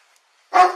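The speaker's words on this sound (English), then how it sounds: "Hey, watch that dog." A single sharp dog bark rings out suddenly after near silence during a police search of a building, close and loud, then fading quickly.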